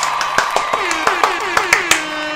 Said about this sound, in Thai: โอเคปรบมือ